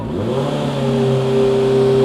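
A 2017 Honda CBR650F motorcycle with a genuine carbon aftermarket exhaust revs up quickly, its loud, steady engine tone rising and holding close by, with no talk over it.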